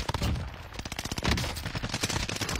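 Rapid bursts of automatic gunfire in a first-person shooter video game, loud sharp cracks firing in quick rhythmic volleys that fill the whole short stretch.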